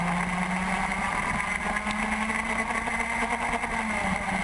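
A pack of TaG Junior racing karts at a street circuit in Lancaster, their engines a steady, continuous buzzing drone heard from trackside at a distance.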